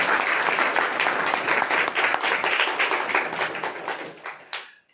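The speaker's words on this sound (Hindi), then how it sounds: "इस सूबेदार के लिए एक ताली बजाओ ना प्लीज" A church congregation breaks into loud, dense applause, many hands clapping together at a steady pace before it thins and fades out over a few seconds.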